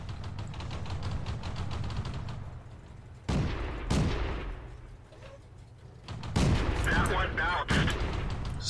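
Tank guns firing in World of Tanks, several loud sharp booming shots spaced a few seconds apart, with shorter clanks and rattling between them over constant engine rumble.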